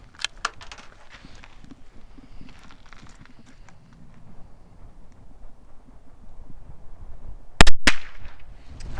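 CZ 457 AT-ONE .22LR rifle fired outdoors in rising wind, a single sharp crack late in the clip, close and brief, after a stretch of quiet rustling and light handling noises.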